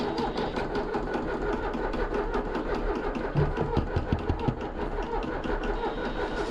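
Engine cranking over and over as it struggles to start, a rapid, steady chugging rhythm with no catch, fairly loud and close, a few heavier thumps midway.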